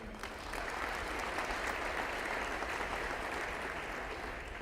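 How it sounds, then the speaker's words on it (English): A business-address audience gives a sustained round of applause, a dense, even wash of many hands clapping throughout, moderately distant and without speech. "give everybody a round of applause"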